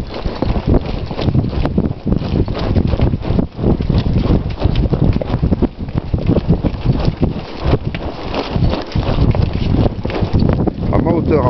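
A horse trotting, heard from the rider's own height, with steady clip-clop hoofbeats that pick up pace, buried under heavy, constant wind noise on the microphone.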